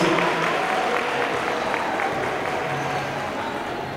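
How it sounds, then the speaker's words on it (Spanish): Applause for the teachers at a Teachers' Day school ceremony, a steady wash of many hands clapping that holds at an even level and tapers slightly toward the end, with faint voices mixed in. "Muy bien, reiteramos el aplauso."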